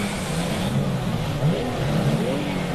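A Mercedes 300SL W194 race car from the historic GT3 field in a racing video game accelerates with a steady, droning engine note that rises and falls slightly, sounding close and continuous throughout.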